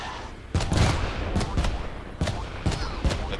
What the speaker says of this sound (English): Carpet bomb to end it.